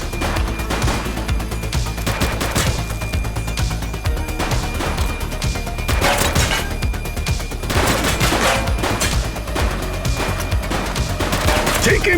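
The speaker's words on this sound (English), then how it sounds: "He's shooting!" Rapid gunfire from a police shootout in The Precinct video game crackles nonstop in loud bursts over music and shouted radio voices.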